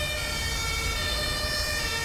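An ambulance siren wails continuously in the GTA5 video game, loud and close with a steady tone over a low hum of passing traffic.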